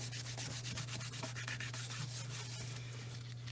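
Quiet, steady rubbing of an acetone-soaked cloth against fingernails in quick repeated strokes over a low constant hum.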